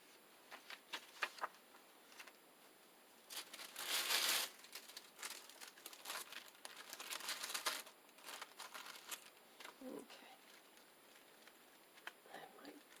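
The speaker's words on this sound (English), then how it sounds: "There's my wax paper." Sheet of wax paper crinkling and rustling in bursts on a tabletop craft work surface, close and fairly loud, with brief pauses between handling noises.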